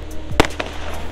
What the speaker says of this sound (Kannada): ಯಾರೋ ಏನಕ್ಕೋ ಪಟಾಕಿ ಹೊಡಿತಾರೆ, ಯಾಕೆ ಅಂತ ಗೊತ್ತಿಲ್ಲ.